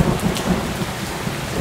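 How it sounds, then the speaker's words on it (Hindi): Heavy rain pours steadily in a thunderstorm, with low rumbling thunder running underneath the dense hiss of the downpour throughout, no voices. "आकाशे जोरी बिजुली खड़खड़ी और बहुत जोरे वर्षा"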